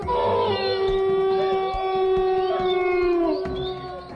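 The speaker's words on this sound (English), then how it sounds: "With the wolves and other animals going crazy, the woman remains carefree of her surroundings." Several wolves or other wild canids howl together at night, long sustained wavering tones overlapping continuously and loudly for the whole stretch, with smaller yips and whines mixed in.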